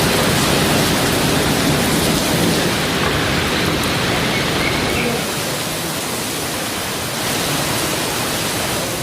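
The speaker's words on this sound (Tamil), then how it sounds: "ஆவடி சுற்றுவட்டார பகுதிகளிலும் கனமழை வெளுத்து வாங்கியது." Heavy monsoon rain lashing down around Avadi, a dense, loud, unbroken roar of downpour hitting surfaces, with no voices.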